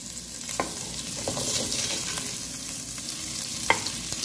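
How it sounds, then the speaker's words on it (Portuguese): Bacon fries in a pan for a Brazilian feijão tropeiro, giving a continuous close sizzle with occasional sharp pops and crackles and no talking over it. "Agora eu vou pôr o bacon para fritar"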